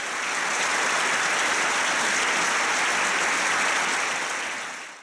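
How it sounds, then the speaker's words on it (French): An audience gives a long ovation closing a concert by an orchestral ensemble, a dense, even roar of clapping from a full hall that stays sustained and steady before easing off at the very end. "la longue salve d'applaudissements qui a clôturé le concert"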